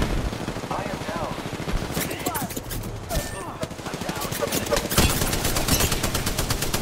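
Rapid automatic gunfire rattles in a firefight in Apex Legends, dense bursts of shots near and loud, with brief game voice lines mixed in.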